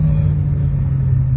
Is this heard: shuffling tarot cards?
no